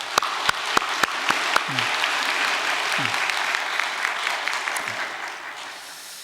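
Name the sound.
audience applause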